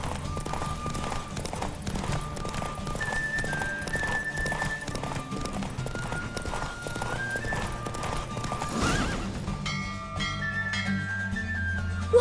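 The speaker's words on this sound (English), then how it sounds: "Don't spare the horse!" A horse gallops in The Witcher 3 video game, rapid continuous hoofbeats under music, with a loud whinny near the end as the gallop breaks off.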